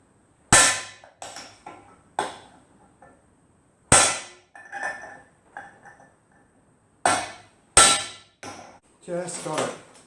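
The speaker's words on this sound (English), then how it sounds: "decent hammer, give it a tap" Several sharp metallic clangs of a hammer tapping a pipe against a Jawa motorcycle sprocket, spaced irregularly with short ringing decays and pauses between blows.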